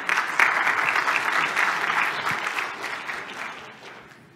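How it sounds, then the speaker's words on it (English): Audience applause at a Cilium CNI and ClickHouse Cloud tech conference talk: sustained dense clapping from a seated crowd that gradually fades out over about four seconds, with no talking over it. "So let's give Timur a big round of applause"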